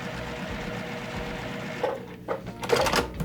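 A sewing machine runs steadily as quilt blocks are chain-stitched through it, a continuous close mechanical whir, with a few louder bumps and shifts near the end as the fabric is fed along.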